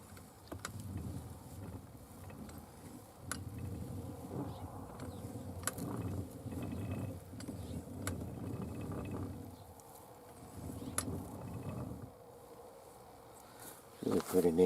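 An antique hand-crank blacksmith drill press is turned by hand, a faint low rhythmic grinding of gears and cog that repeats in pulses under quiet talk, with a few small clicks.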